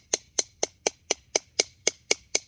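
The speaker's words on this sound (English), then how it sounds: "just tap it with that hatchet, kind of like it's a hammer." A hatchet taps like a hammer on a knife blade set into deer bone while gutting a deer, ten sharp, even metallic knocks in a steady rhythm, close and clear with no talking.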